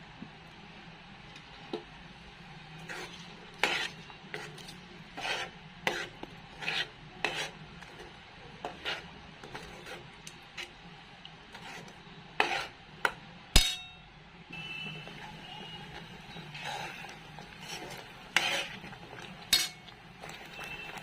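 A spoon scrapes and clinks against a pan in irregular bursts as a ground masala paste is stirred and sautéed for a restaurant-style matar paneer, fairly quiet overall with no talking.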